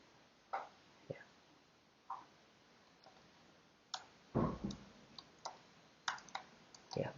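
Typing on a computer keyboard into a browser window: sparse, irregular clicks and taps, some single and some in quick bursts, fairly close but quiet, with no voices.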